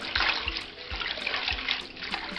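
Water splashes and sloshes steadily as soaked vegetables for mrenda, a Kenyan leafy dish, are rinsed, with a few soft knocks against the container, close by and without voices.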